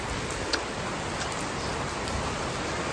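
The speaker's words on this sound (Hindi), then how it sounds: "बहुत तेज बारिश हो रही है" Heavy rain pours down outside a home in the late afternoon, a constant loud hiss of water with no pauses and no talking.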